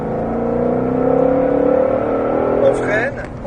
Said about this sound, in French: et on réaccélère